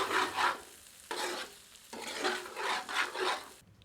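Dry chana dal cooks on a low flame while a spoon stirs it in a pan, making several quiet rasping scrapes in a loose rhythm, with a faint sizzle underneath.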